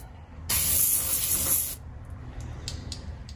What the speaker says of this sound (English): I'm gonna soak it down with some penetrating oil first